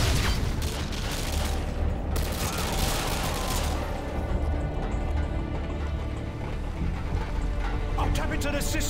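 A grenade goes off amid heavy gunfire in Call of Duty Modern Warfare 2, with dense rattling shots and a loud burst early on, all close and continuous.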